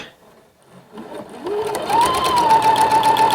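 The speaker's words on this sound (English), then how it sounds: "We'll bring it to the sewing machine. And we're going to stitch at 1/4 inch." After a quiet start, a sewing machine stitching a quarter-inch seam whirs into motion, its motor rising to a steady buzzing hum with rapid stitching clatter.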